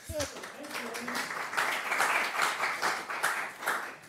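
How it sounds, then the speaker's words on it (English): An audience claps in a short burst of applause, with a voice speaking over the start. "Round of applause for Ann."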